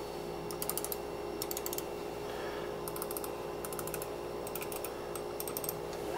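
Mouse buttons on a Logitech G502, Razer Basilisk v3 and Picktech PC278A are clicked in short bursts of rapid, crisp ticks with brief gaps, close-up over a steady low hum.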